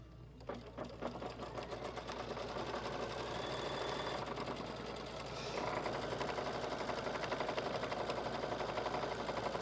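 A sewing machine quilting a quilt runs steadily, with a fast, even mechanical whir and needle rattle. It stays at a moderate level throughout and picks up slightly partway through.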